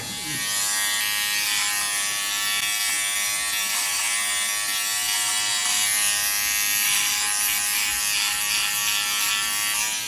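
A Philips OneBlade electric shaver buzzes continuously while trimming a beard, a steady, close, high-pitched whine with slight variations in tone as it moves across the face and neck.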